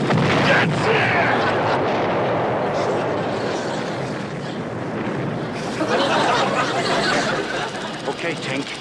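Naval artillery salvo from a staged movie battle set in the North Atlantic: a dense, continuous roar of rumbling blasts and gunfire fills the whole stretch, loud and unbroken, with no clear pauses between shots.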